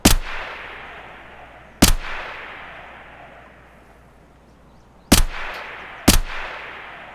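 Escape from Tarkov gunfire: four loud, sharp single shots at irregular intervals, each with a long decaying echo tail, the last two close together.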